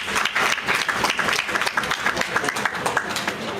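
Audience applauding at a launching ceremony for a music movement, a lively sustained round of clapping from a sizeable crowd, close and full for the whole stretch.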